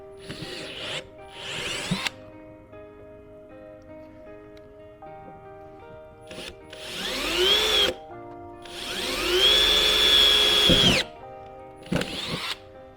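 A power drill bores pre-holes in thin sheet metal for rivets: several short whining bursts with rising and falling pitch, separated by quiet gaps, close by and without talk.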